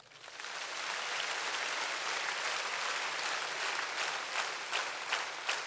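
An audience clapping at a university vice-chancellor's address, dense steady applause that rises quickly from the start and holds at an even level throughout, with a few sharper claps standing out toward the end.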